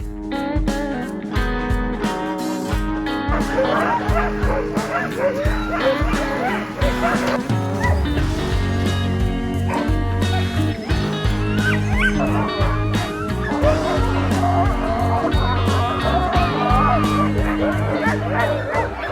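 Sled huskies on an Arctic husky safari bark, yip and whimper excitedly throughout, a loud, dense, restless chorus close by with people's voices mixed in.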